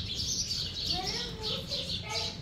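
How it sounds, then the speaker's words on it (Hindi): Small birds chirp in quick repeated high tweets outdoors on an early morning, with faint background activity and no clear speech. "क्यूट क्यूट चिड़िया।"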